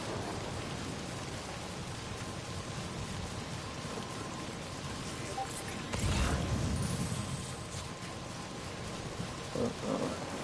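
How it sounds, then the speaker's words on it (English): Steady rain hisses quietly in the game Death Stranding, and a low rumble of thunder swells briefly midway before the downpour carries on alone. "it's raining like a dumbass"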